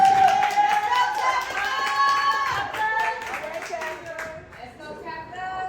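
An audience at a spoken word event, Wordseed's Break the Mic at Fast Break in Paterson, claps steadily while a sustained voice rings over the claps and fades toward the end.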